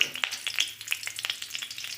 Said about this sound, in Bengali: কালো জিরে ফোড়ন দিলাম